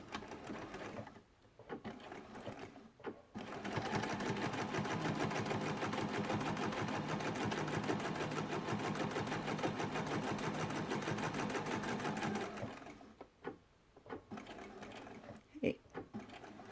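A sewing machine stitches quilt sashing seams in a long, steady, fast run of close needle clatter lasting several seconds, framed by brief quieter handling noises and short bursts of stitching at either end.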